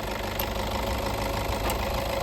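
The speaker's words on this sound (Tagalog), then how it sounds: "Diesel engine to." A 7-seater diesel vehicle, a 2014 model, idles steadily with a continuous low, rough engine hum, close by and alone.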